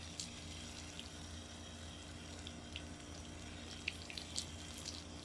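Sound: water hose lightly watering grass seeds

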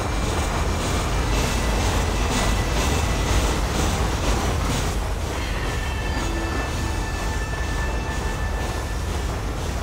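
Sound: train ride in video game Red Dead Redemption

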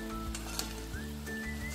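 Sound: namak pare frying in oil until brown

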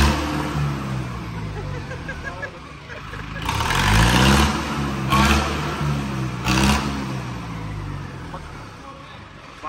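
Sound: HMT 5911 tractor engine revving

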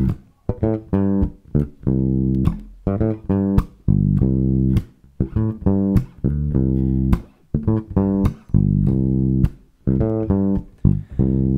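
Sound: bass guitar playing a bass line

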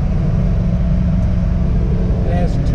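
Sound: V8 car engine

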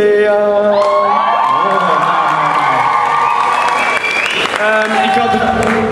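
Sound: applause from an audience

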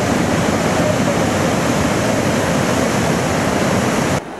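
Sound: Tumalo Falls waterfall near Bend, Oregon

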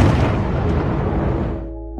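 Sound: explosion destroying the whole area, Venom film

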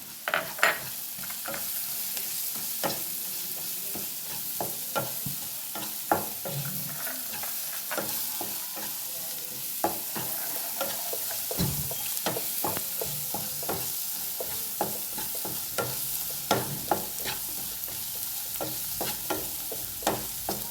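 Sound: prawn curry masala frying with coriander powder in pan

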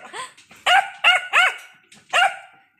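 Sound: Belgian Malinois puppy barking

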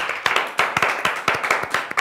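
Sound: round of applause for spelling champion

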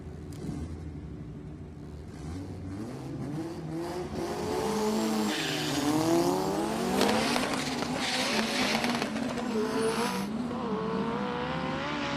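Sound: race car accelerating on a drag racing run

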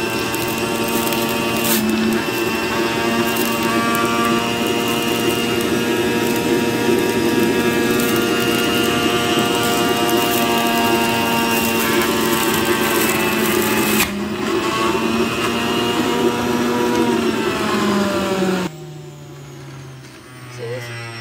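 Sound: electric juicer juicing a cucumber

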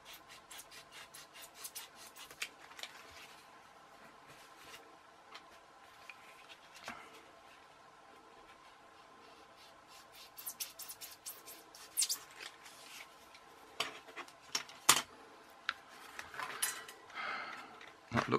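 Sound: cutting a foam glider

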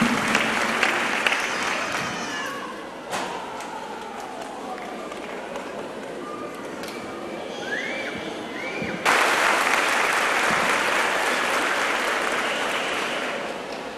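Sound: audience applauding an illustrious guest

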